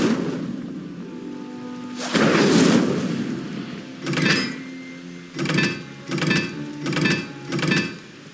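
Hogwarts Legacy Incendio fire spells are cast repeatedly: a long whooshing flare, then a quick rhythmic series of four or five fiery bursts, fairly loud with no talking.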